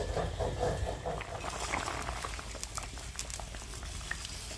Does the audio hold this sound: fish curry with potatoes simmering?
yes